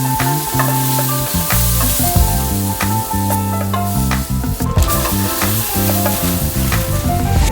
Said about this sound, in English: now it's time to cook the ground beef.